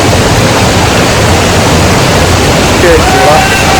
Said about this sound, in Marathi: माझ्या मागे तो धबधबा दिसतो